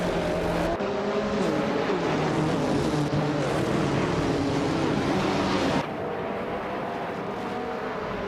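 A racing game's Group C field at Bridgehampton, led by a 1984 Porsche 962 C Short Tail, starts with engines roaring loud and continuous, the dense mix of cars shifting and easing slightly partway through.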